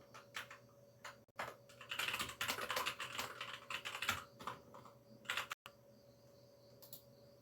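Computer keyboard typing during database query work, bursts of rapid close clicks and key taps with brief pauses, fairly quiet and without talking.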